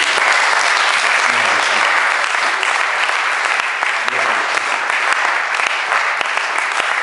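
A church congregation at a French-language sermon bursts into sustained applause, a loud, dense wash of clapping that fills the whole stretch, with faint voices mixed in.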